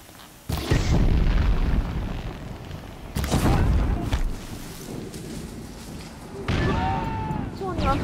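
Heavy explosions in the video game Horizon Zero Dawn, three loud booming blasts a few seconds apart, each trailing off into a rumbling roar.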